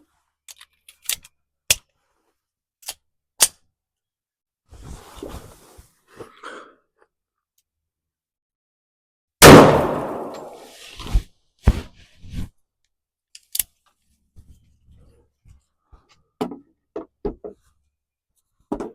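Outdoor shooting of .45 caliber and 10 millimeter handguns, a series of sharp isolated cracks spaced irregularly over several seconds, with one louder, longer blast midway and fainter shots trailing off, no talking.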